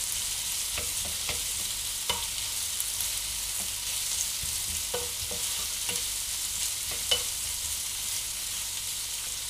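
Red pepper sizzles and fries in a pan for vegetable-stuffed eggplant, a steady, close hiss broken by a few light scrapes and clicks of stirring.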